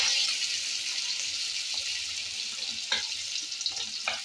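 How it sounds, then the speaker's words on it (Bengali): Food fries lightly in a small amount of oil with a steady, close hiss, broken by scattered crackles and soft stirring clicks toward the end. "এটা খুব তেলে ভাজতে হয় না, এটা একদম হালকা ভাজতে হয়।"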